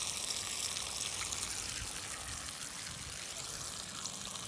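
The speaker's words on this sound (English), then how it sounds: "So now if we check the flood irrigation," Flood irrigation water runs across a sloped garden bed with a continuous bright, rushing hiss that holds steady throughout.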